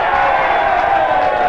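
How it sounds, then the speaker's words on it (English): The Central District crowd at a 1996 SANFL Round 9 football match against the Eagles gives a loud, sustained roar of cheering and shouting that fills the brief moment without a break. "You can hear the crowd, the Central's crowd in the background."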